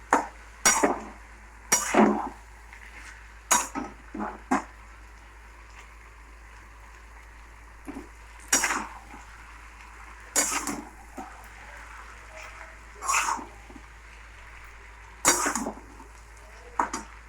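Chowmein is mixed in a metal pan with intermittent clanks and scrapes of a utensil against the pan, irregular bursts separated by quiet gaps, close by, no speech.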